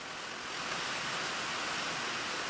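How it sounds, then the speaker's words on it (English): Rain falling in a forest beside a corduroy log trail, a soft even hiss of drops on leaves and ground, steady and fairly faint with no other sounds standing out. "It's starting to rain again."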